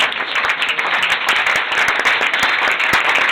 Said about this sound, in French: Mais vous pouvez faire un applaudissement à Jasmina.